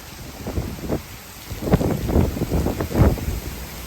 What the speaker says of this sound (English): It's like category 1, this is like category 1 hurricane winds right now.